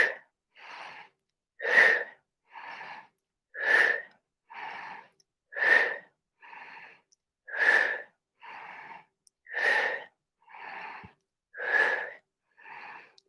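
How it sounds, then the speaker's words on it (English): Steady, deliberate breathing during a no-impact yoga abs class, with about a dozen alternating inhales and exhales in an even rhythm, close and clear against silence. "Exhale, inhale."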